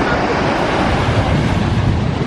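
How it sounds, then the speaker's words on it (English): Ocean waves crashing onto a Benidorm beach in summer, a steady loud roar of surf with wind buffeting the microphone throughout. "Nothing like the sound of the waves crashing in, is there?"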